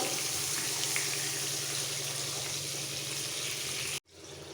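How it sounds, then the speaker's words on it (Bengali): Water poured into a pan of ground cumin and green chilli paste while cooking Bengali lote fish curry with vegetables, a steady loud rushing pour running about four seconds before stopping abruptly. "এই সময় দিয়ে দিচ্ছি সামান্য একটু জল"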